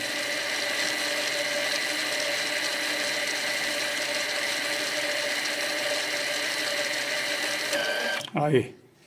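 Electric parking-brake caliper motor on a Volvo V70 rear brake whirs steadily as it retracts the piston, a close, even mechanical hum that cuts off near the end with a brief clunk.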